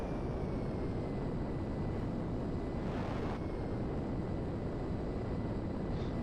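A plane in Grand Theft Auto V rolls along a runway after a bumpy landing, giving a steady, broad engine and rumble drone with airy wind-like noise, holding even throughout with no voices.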